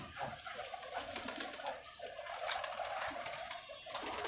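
Flying pigeons brought down to land at night give soft cooing calls, moderately loud, amid a busy, bright background with no speech.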